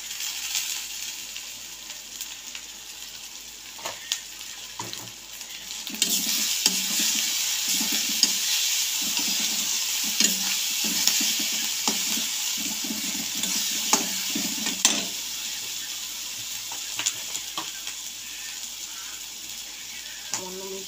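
Eggplant fries in oil with turmeric and red chili powder, a continuous close sizzle that grows louder partway through. A spatula scrapes and taps the pan again and again.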